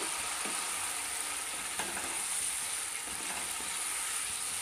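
Spices and salt being sautéed in a pan, giving a steady soft sizzle with occasional faint scrapes of stirring, continuous and fairly quiet throughout.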